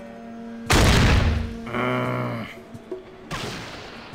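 Sniper rifle fire in a video game: a loud, sharp burst of gunfire rings out, followed by a tonal humming effect and a second boom, with no talking.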